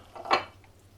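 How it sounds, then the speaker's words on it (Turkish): A single brief clink of a utensil against a pot of keşkek with chicken, with a soft scraping stir around it, close and quiet. "Güzelce karıştırıyoruz."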